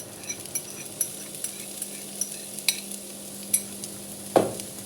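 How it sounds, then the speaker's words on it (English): Peppers tipped into a hot frying pan give a quiet sizzle with a steady hiss, broken by light clicks and scrapes of stirring and one sharper knock near the end. "I've got the pan still on the heat and I'm going to add my peppers."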